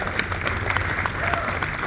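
Audience applause after a film Q&A, steady broadband clapping filling the whole stretch at moderate level, with a faint voice underneath.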